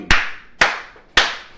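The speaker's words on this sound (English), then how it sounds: "I am applauding." Three sharp, loud hand claps, evenly spaced about half a second apart, each ringing briefly before the next, with no talking.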